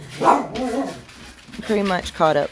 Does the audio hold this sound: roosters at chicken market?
no